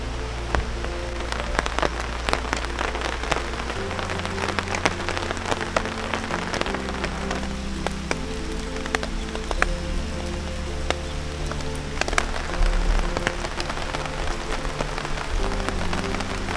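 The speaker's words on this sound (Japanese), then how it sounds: "少し雨が降ってますね" Steady rain falls at a campsite, a dense continuous patter with scattered sharper drops striking nearby surfaces, even and unbroken with no voices.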